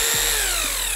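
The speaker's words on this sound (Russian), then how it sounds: "Отдолбил я, в общем, брюхо на нашем армопоясе и сделал я это с помощью перфоратора «Вихрь»." A Vikhr rotary hammer chisels into a concrete ring beam, a loud continuous hammering drone with a steady motor whine, close and unbroken throughout.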